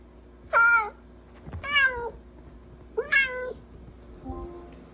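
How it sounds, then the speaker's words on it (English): Three clear, drawn-out cat meows spaced a second or so apart, close by, followed by a softer, shorter mew. "Box, just say meow to release one."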